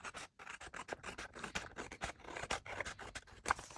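Scissors snip through the overhanging edges of a paper collage in a rapid, close series of crisp cuts and scratchy paper rasps, quiet and without talk.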